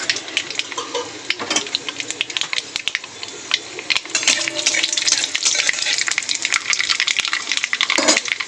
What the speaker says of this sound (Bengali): এখানে বসাবো থোড় ভাজা